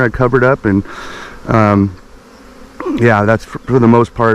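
A honeybee swarm of two to three pounds of bees being captured in the Pacific Northwest near Bellingham, Washington, its steady buzzing running underneath someone talking up close.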